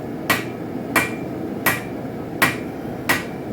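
Five evenly spaced, sharp metallic hammer blows land on a forged spike knife during flattening. The strikes are close and distinct, with no speech between them.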